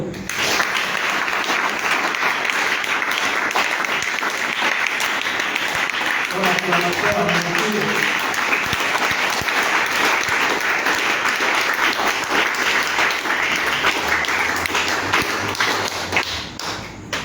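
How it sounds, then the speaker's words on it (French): A church congregation applauds steadily through a charismatic prayer seminar, dense sustained clapping filling the room with some tapping and thumps, fairly loud and unbroken throughout. "On peut acclamer au Seigneur."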